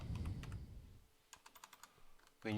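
Keys clack lightly on a computer keyboard while code is typed in PyCharm, a quick faint run of taps after a burst of louder background noise, and a voice begins at the very end.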